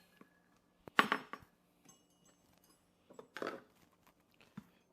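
A martini glass clinks as it is set out while making a fair-inspired cocktail, a couple of sharp glassy knocks with softer handling clatter between them, close and otherwise quiet.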